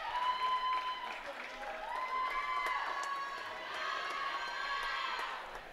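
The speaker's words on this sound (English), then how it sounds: "we hear the cheering only increasing" Spectators cheer and clap at a high school swim meet on senior night, echoing through the pool hall, with shouts and whistles rising and falling as swimmers race the home stretch.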